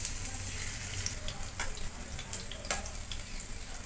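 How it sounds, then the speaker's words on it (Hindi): Patra pieces fry in hot mustard oil with a soft, continuous sizzle, broken by a few brighter pops and light utensil touches; quiet and close, with no voices. "इसमें एक एक करके पातोर को फ्राई कर लेते हैं गोल्डन कलर आने तक"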